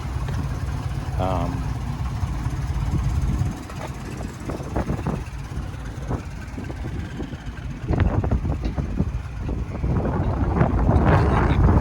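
A 1979 Dodge step-side pickup idles steadily with a low, continuous engine rumble, close to the microphone, with some wind noise and a person talking over it.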